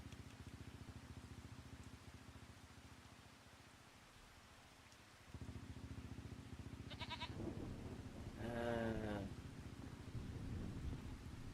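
Sheep bleating near a sheep barn on an abandoned swamp farm in Farming Simulator 25; two short bleats rise over a steady, low ambient rumble, with no clear talk.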